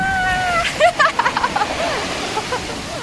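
An ocean wave crashes and sloshes at the Oarai shore in Japan, a loud close surge of water with excited voices shouting over it.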